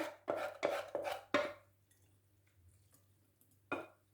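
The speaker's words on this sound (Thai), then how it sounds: "หมกหน่อไม้เราก็จะตักใส่จานนะคะ" Steamed bamboo shoot curry scooped onto a plate, giving four quick clattering scrapes of a utensil against dishware, then a pause and one more scrape, with no talking.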